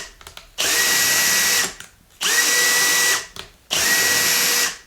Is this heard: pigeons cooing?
no